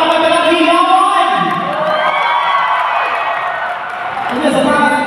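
A crowd shouts and cheers continuously at a lively Filipino event, with voices rising and swelling in a dense, loud roar of whoops and yells that dips slightly midway before surging again.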